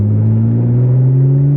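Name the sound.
2010 Lotus Evora engine revving after downshift to second gear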